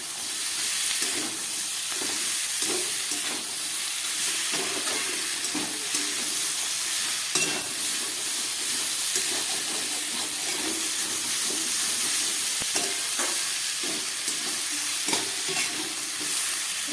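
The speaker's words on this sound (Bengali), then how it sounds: "ভালো করে আমি কষিয়ে নিচ্ছি" Leftover rice and vegetables with peas being sautéed for vegetarian khichuri, with a continuous soft sizzle and frequent scraping stirs of a spoon against the pot, no talking.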